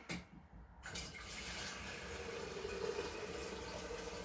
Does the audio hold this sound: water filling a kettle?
yes